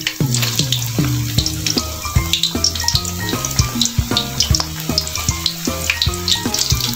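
Loud crackling and popping of banana slices frying in hot oil for banana chips, steady and close, with dense spitting bursts throughout.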